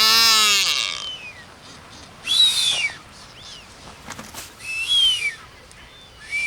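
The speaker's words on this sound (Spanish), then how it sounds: "estos piqueros de patas azules emiten sus silbidos característicos al empezar el celo" High whistling calls of a blue-footed booby, a long descending whistle followed by a few shorter rising and falling whistles separated by quiet pauses, fairly close.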